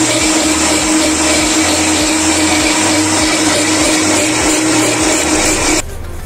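A mixer grinder runs steadily, blending beetroot with sugar water in its jar for a large batch of juice. The motor's whir is loud and continuous, with no voices, and it cuts out abruptly just before the end.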